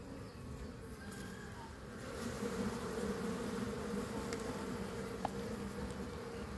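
Honeybees swarm and buzz in a steady, dense drone around an opened wooden hive box, its capped honeycomb exposed during honey season after smoking. The buzz is close and continuous, with no talking.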